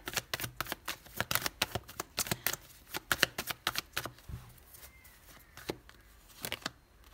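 Tarot cards shuffled, slapped down and laid out on a table in a rapid series of crisp snaps and flicks that thin out toward the end, close and fairly quiet, with no talking.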